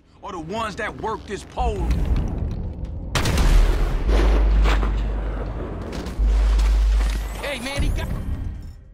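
Railgun fire in a video game, a series of heavy, crackling energy discharges with low rumbling bursts, loud and close, following a stretch of talking at the start.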